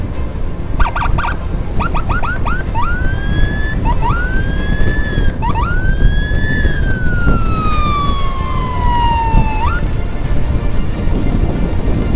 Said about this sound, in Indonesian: Cuma sirinenya ini kayaknya kurang kencang gitu volumenya.